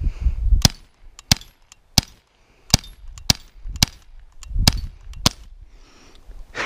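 Umarex Glock 19 CO2 BB pistol fired in a run-and-gun target drill, eight or so sharp, loud pops spaced unevenly about half a second to a second apart, with faint clanks and movement between shots.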